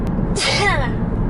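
One sharp, breathy sneeze bursts out close to the microphone in a quiet indoor room, a brief hissing blast that fades within half a second.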